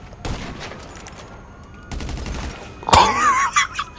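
Gunfire in GTA V Online, two short bursts of loud shots followed by a heavier blast and rumble, close and punchy with no talk over them.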